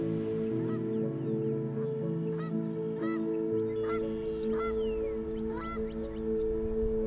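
Geese calling at a wetland refuge for migrating waterfowl, a steady chorus of honks rising and overlapping over a constant low hum, moderately loud with no voices.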